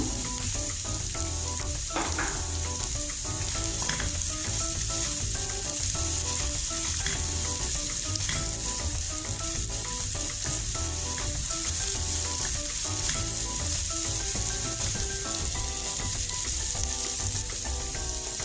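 Chopped green chili frying in butter in a pan for an easy healthy breakfast, a continuous bright sizzle with a low steady hum beneath and occasional stirring clicks, close and unbroken, with no one talking.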